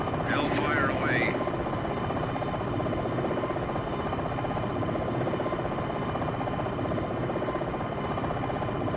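A helicopter's rotor and engine drone on continuously in the Jane's Longbow flight-simulation game, a steady, fairly loud chopping hum throughout with a brief higher-pitched electronic sweep near the start.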